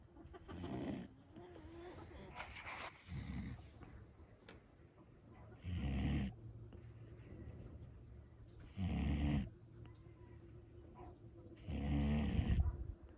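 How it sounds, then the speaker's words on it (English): A goat with a cold snores heavily in slow, regular bursts about every three seconds, close and rasping, with quiet breathing between them. "so she snores heavily"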